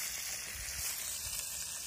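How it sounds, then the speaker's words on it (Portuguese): Chicken frying in a pan at an outdoor fishing campsite gives a steady, close sizzle with a constant hiss and soft crackle throughout, with no voices. "Estamos fritando um franguinho aqui pra cima."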